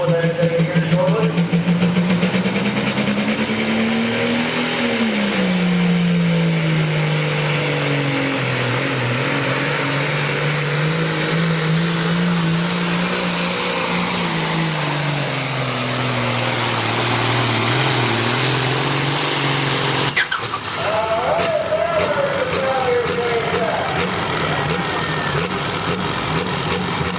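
A loud, heavy engine roars and revs continuously, its pitch slowly rising and falling over long stretches, close and dominant, with a sudden shift near the end and talk mixed in at times.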